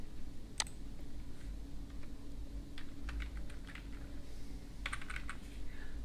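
A computer keyboard clicks as a short message is typed while setting up a Facebook page, quiet irregular taps over a low steady hum, no voices.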